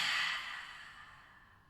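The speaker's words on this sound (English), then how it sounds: "Take a full breath in through your nose. And an exhale through the mouth." A slow exhale through the mouth during a calm yoga class, one soft, breathy rush of air that fades away over about a second, close and alone.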